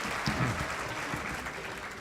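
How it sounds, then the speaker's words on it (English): Steady applause from a crowd at a school education foundation luncheon, dense clapping filling the whole stretch at an even level with no voices breaking through. "Let's give them a round of applause."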